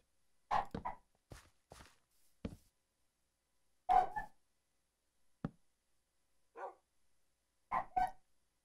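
Dog barking in the Minecraft video game at night: short, sharp barks in scattered bursts with quiet gaps, fairly close and clear, with a few faint soft clicks between them.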